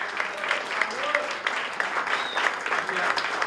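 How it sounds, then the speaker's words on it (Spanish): Steady applause from a crowd at a jazz trio concert, dense clapping sustained throughout with a faint voice underneath. "un aplauso grande"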